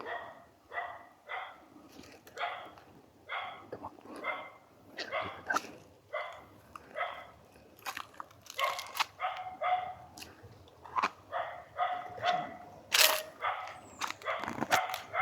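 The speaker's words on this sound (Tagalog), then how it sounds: "May aso no." A dog barks repeatedly in a rhythmic series of sharp barks, fairly close, continuing for well over ten seconds, with brief scuffling and faint voices in between.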